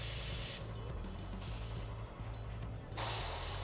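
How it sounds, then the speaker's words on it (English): Airbrush spraying paint onto a miniature figure, a close, continuous hiss that cuts in and out in several short bursts over a steady low compressor hum, with no voices. "using that trick where you spray past the Mini and then just come in with the overspray to hit those edge highlights"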